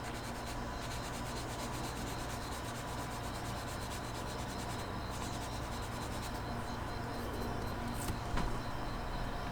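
A 600-grit sandpaper stick rubs back and forth over gate marks on a plastic Gunpla model kit, a faint, continuous scratchy hiss with no pauses and no talking.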